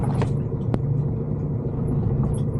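A lorry rolls slowly onto a weighbridge at a truck wash site, its engine a steady, close, low rumble with a brief clack partway through.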